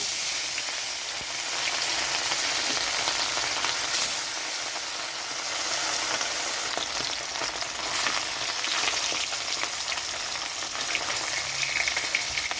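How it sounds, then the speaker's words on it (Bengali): Pieces of bhola fish fry in hot oil in a kadai, giving a steady, close, even sizzle that runs unbroken and alone without any talk. "তেলটা গরম হয়ে গেছে তো মাছ ছেড়ে দিচ্ছি ভাজার জন্য"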